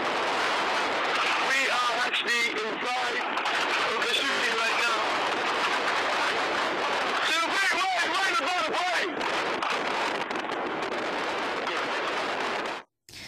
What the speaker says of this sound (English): you do hear the intense gunfire